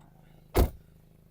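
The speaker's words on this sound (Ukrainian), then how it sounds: "Склопідйомники всі працюють." A short electric whir of a Skoda Octavia power window motor, lasting a fraction of a second in an otherwise quiet interior.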